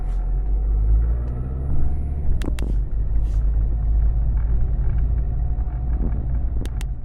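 Steady low interior rumble of a car driving home on the road, continuous engine and tyre drone with a few brief higher clicks or squeaks, no talking.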